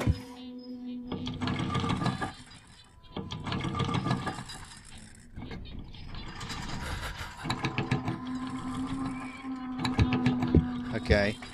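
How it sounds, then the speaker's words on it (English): A printer runs in the Eyes horror video game with a mechanical, buzzing, rhythmic whir that stops and restarts, rattling near and fairly loud, while a person talks over it. "printer's doing something."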